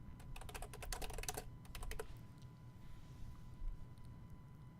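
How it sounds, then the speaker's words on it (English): Fingers tap quickly on a computer keyboard in bursts of rapid clicks, with short pauses, over a low steady background hum. "if we type in here"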